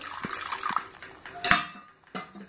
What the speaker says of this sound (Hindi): मैं थोड़ा सा पानी डाल दूंगी एक